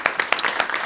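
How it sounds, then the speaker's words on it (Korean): Brief congregational applause in a Korean church service, a handful of close, distinct claps in quick irregular succession. "우리 한번 박수로 영광 올리겠습니다"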